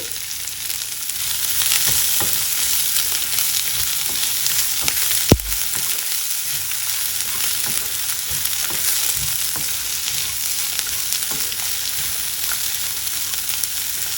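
Thinly sliced onion with chopped ginger fries in a pan for a tomato-mint chutney, a continuous dense crackling sizzle with soft stirring scrapes and one sharp click partway through.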